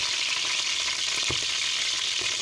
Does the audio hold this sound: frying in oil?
yes